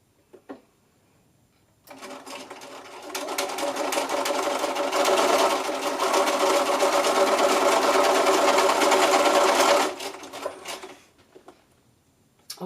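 A sewing machine stitches patchwork squares together, starting up after a short pause and running in a fast, steady whir for about eight seconds before stopping, with faint handling clicks on either side.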